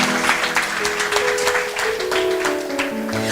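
A congregation applauds at a Christian prayer service for mothers: dense, steady clapping fills the space, with a sustained tone running beneath it throughout.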